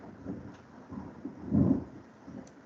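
Thunder rumbles during a thunderstorm, a low, muffled roll that swells to a louder peak midway and then fades back to a soft background.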